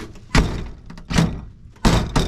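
A Chevrolet Cruze car door with a faulty latch is shut repeatedly, three or four loud, close thunks spaced unevenly, with quieter rattling between them and no speech.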